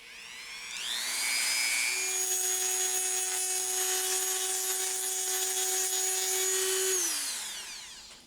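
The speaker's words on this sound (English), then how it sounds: "It also works just great with our rotary tool here." A rotary tool powered from a portable power station spins up with a rising whine, holds a steady high-pitched motor tone with harmonics for several seconds, then winds down, alone with no voices.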